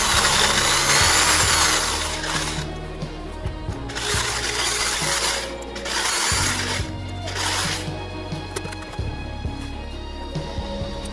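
A drill bores into a metal motherboard heatsink during a budget AMD PC build, a steady loud grinding whine that rises and eases in several bursts across the span.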